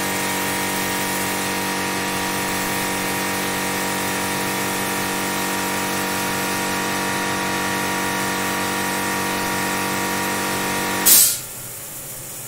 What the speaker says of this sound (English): If you can hear me above the compressor.